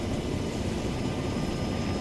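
Helicopter in a military video game flying steadily, a continuous rotor and engine drone filling the background at constant loudness with no talk.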